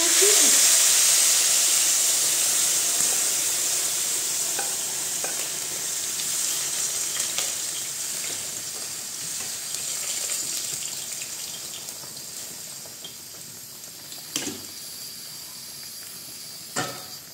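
Pork ribs frying in a pan and stirred with a small spoon: a loud, close sizzle that slowly fades, with a few soft spoon clinks near the end.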